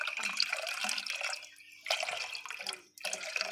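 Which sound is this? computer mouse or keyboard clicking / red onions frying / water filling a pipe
water filling a pipe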